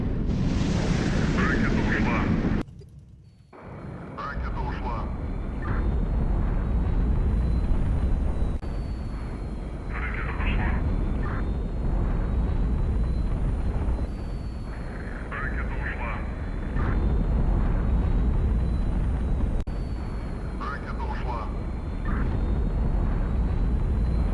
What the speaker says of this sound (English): Let's just then launch another barrage of missiles at a different Zaporizhia class ship.